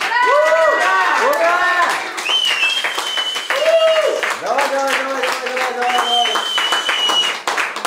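Applause breaks out at a wedding as the bride and groom light the family hearth together, a dense, sustained burst of clapping mixed with cheering voices and tonal music that carries on for the whole stretch.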